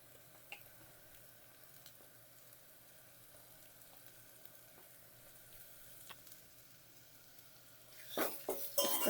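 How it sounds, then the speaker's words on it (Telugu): Onion and masala paste in a tempering for pepper rasam sizzle quietly in the pan, a faint steady fry that gives way near the end to a loud burst of stirring and utensil scraping. "ఒకసారి మళ్ళీ కొంచెం ఫ్రై అవ్వాలి మసాలా పేస్ట్ కూడా."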